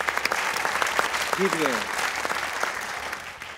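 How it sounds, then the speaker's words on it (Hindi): Studio audience applauding during a Pakistani cricket comedy show, steady dense clapping throughout with someone speaking briefly over it. "तालियां बजाओ यार"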